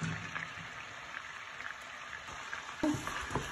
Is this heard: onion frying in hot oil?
yes